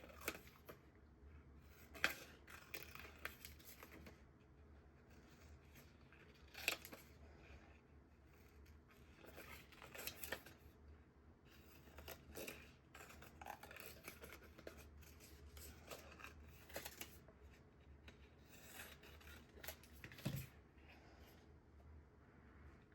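Scissors making quick, rough cuts through paper for a collage, a soft, faint series of irregular snips and rustles with no talking.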